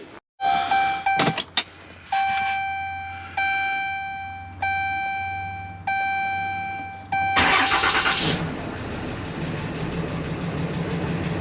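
A 2012 Dodge Ram 3500 pickup truck sounds a series of evenly spaced dashboard chimes, then its engine cranks and catches into a loud, steady, rumbling idle, with no talk.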